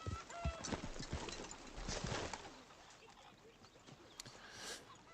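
Steady clip-clop of horse hooves at a moderate pace in Red Dead Redemption 2, with faint bird cooing and ambient outdoor sounds in the background.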